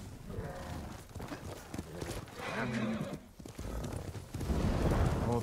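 Hooves clatter in a quick galloping rhythm in the video game Ghost of Tsushima, a horse whinnies, and busy background sounds swell toward the end.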